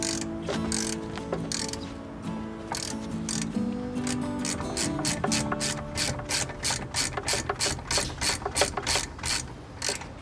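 Ratchet wrench tightening a bolt during a brake upgrade on a Jeep XJ Cherokee, a quick run of sharp, regular metallic clicks close by that speeds into a dense, steady rhythm, with no talking.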